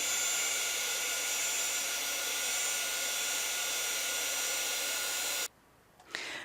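An embossing heat tool blows hot air steadily and loudly while melting glitter embossing powder on a metal tin, then cuts off abruptly near the end and leaves a brief quieter rustle.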